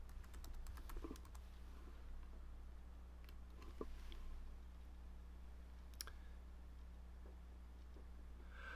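Keys tapped on a computer keyboard while entering a username and password to log in, a quiet run of soft clicks clustered early, then sparse taps over a steady low hum, no talking.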